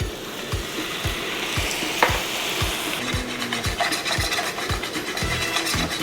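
Meat stir-fries in a hot, oiled pan, giving a loud, continuous sizzle. A spatula scrapes the pan in a steady rhythm, roughly twice per second.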